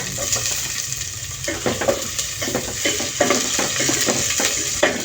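Garlic frying in a little oil, an even sizzle with frequent knocks and scrapes of a utensil against the pan, up close.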